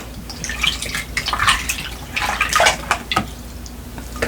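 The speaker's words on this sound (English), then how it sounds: "Alright, now I'm going to rinse it off." Warm water is splashed and rinsed during a facial, giving irregular wet sloshes and drips in uneven bursts, close and fairly loud, with no speech over it.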